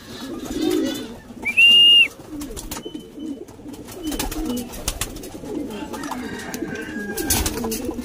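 Racing pigeons coo softly and repeatedly near a loft as they come in, with a brief sharp whistle-like call and the low murmur of the flock under a man's occasional speech.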